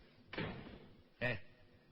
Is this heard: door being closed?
yes